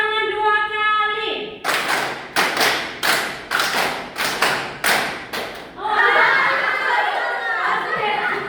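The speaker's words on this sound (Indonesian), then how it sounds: "Tepuk tangan 2 kali" A classroom of children claps in unison in short, loud bursts, several sharp double claps in a row. Voices chatter before and after.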